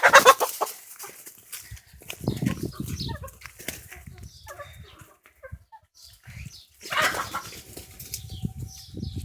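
Chickens clucking and squawking nearby with bursts of wing flapping, scattered rustling and scuffling throughout.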